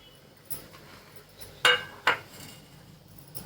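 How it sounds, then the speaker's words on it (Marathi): A steel knife run around the edge of a plate to loosen a steamed rice papad, with a few faint scrapes followed by two sharp metallic clinks against the plate, close and quiet. "अशी प्लेट आहे ना अशी सुरीने असं फिरवून घ्यायचं"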